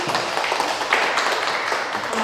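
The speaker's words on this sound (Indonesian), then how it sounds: "Berikan tepuk tangan sekali lagi" Audience applause after a talk on parenting, a steady broadband wash of clapping that holds for the whole stretch at moderate loudness, with no voice over it.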